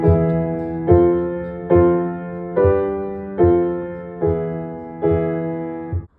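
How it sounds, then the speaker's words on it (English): Piano accompaniment with major chords struck in a steady dotted-half-note rhythm. Seven clear, evenly spaced chords each ring and decay before the next one, played alone and close. "The first rhythm is a dotted half note"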